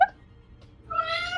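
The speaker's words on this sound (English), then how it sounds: "I am so sorry about that cat." A house cat meows from 0.9 s onward, a clear, sustained harmonic cry. It sits close and fairly loud in an otherwise quiet room, with no talking.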